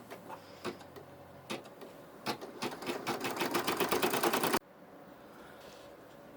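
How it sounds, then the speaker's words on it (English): A sewing machine stitching the outline of a fabric bear leg, a few short separate bursts followed by a longer rapid run of even stitching clatter that stops abruptly, fairly faint and close. "we're going to stitch the outline of the leg"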